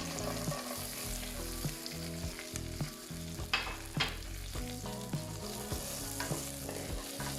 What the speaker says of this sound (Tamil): பட்டர் கொஞ்சம் உருகி வரக்குள்ள வெட்டி வச்சு இந்த பாதி வெங்காயத்தையும் அது கூட போடுவோம்